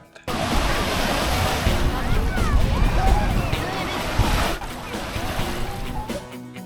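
Sea waves wash and break continuously nearby, a rushing surf sound with wind, lasting several seconds before fading.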